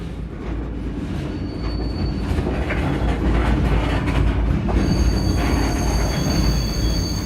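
Freight train standing in a rail yard, a steady loud low rumble of railcars with faint metallic wheel squeal and a high thin whine over it, continuous with no talk.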